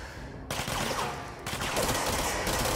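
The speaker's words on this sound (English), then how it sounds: "I'm shooting over his head" Gunfire in the video game Control: dense, continuous automatic shooting bursts, loud and close, with slight pauses between volleys and no talk over them.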